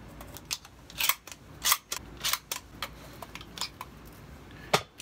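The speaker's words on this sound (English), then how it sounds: "Insert that one shell into the gun. Repeat until the gun is full." Shotgun shells being pushed one by one into a shotgun's magazine, a series of sharp metallic clicks and snaps spaced irregularly over quiet background, close and distinct.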